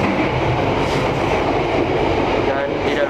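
The Argo Lawu night passenger train from Jakarta to Solo rumbles steadily along at full speed, with a constant loud mechanical roar and rattle from the wheels and carriages.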